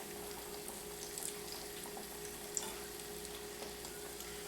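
Fried sweet potato pies cooking in hot oil, a soft continuous sizzle and crackle with a few faint pops, close and quiet.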